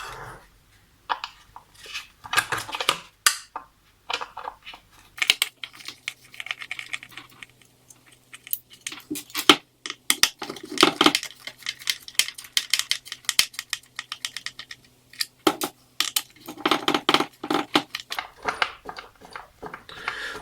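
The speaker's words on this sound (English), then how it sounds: "we need to undo this screw in here and these two screws here" Screws being undone by hand on the rear fender of a 2017 Honda CBR1000RR while removing it: close, irregular bursts of small clicks, ratchet ticks and metallic handling noises with short pauses between them, and no talking.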